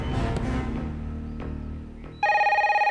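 A telephone starts ringing with a bright, rapidly trilling bell, loud and close, cutting in abruptly after fading ambient sounds.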